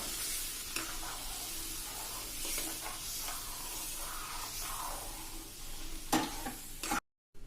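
Semolina sheera is stirred in a pan while milk is poured in, making a steady hissing sizzle with scraping and stirring throughout. It ends in a sudden brief silence, and no one speaks.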